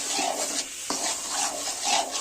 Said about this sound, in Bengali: ভালো করে নাড়াচাড়া করছে আম্মু